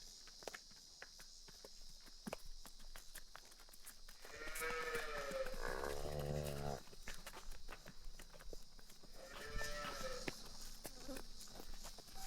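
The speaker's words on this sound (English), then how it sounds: "She's a milk cow." A dairy milk cow on a farm, being herded back toward the barn, lets out two long harmonic moos, the first near the middle and a shorter one later, over steady outdoor insect buzz and footsteps.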